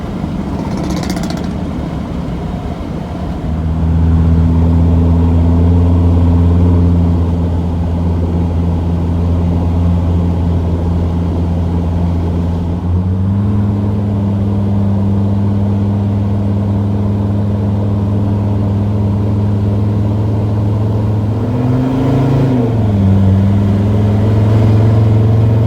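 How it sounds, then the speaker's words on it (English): A Mercedes Sprinter T1N van with a failing turbo accelerates at moderate throttle, its steady mid-pitched engine drone climbing and shifting in tone, with a brief hitch near the end, heard close and loud from inside. "So right now it's kind of like okay acceleration, not the best"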